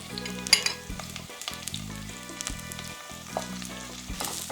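Chopped small shallots and curry leaves crackle and sizzle in hot oil for a Kerala crab curry, a steady close frying hiss with bursts of popping and a low background hum, no voices.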